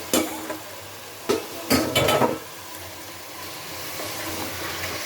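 Fish heads drop into a wok of spiced, cooked-down oil in a Bangladeshi home kitchen. A few sharp sizzling bursts and stirring clatters give way to a steady low frying hiss, close and moderately loud, with no talk.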